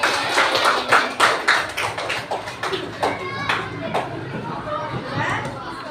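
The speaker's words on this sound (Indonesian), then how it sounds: "Boleh tepuk tangan dulu untuk kelompok 2." A classroom of students claps for a group of classmates, a short burst of scattered clapping mixed with children's chatter and a teacher's voice.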